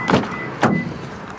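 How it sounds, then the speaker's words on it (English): Power windows on a 2012 Toyota Tundra SR5, two short whirring motor runs close by, each starting with a click and winding down within about a second. "Power windows, power door locks,"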